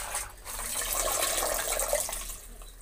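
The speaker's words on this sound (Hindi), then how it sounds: "इसी तरह से हम सब सब्जी धो लेते हैं।" Mustard and bathua greens being washed in water, a soft continuous splashing and trickling that swells and eases, moderately quiet with no talking.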